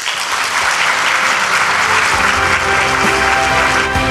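A large audience at a Hyundai Motor Group event applauds after a presentation by its vice chairman, producing loud, dense, sustained clapping that stays steady throughout without a break.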